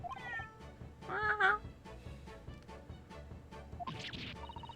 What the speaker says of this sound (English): Why'd you bring the cat?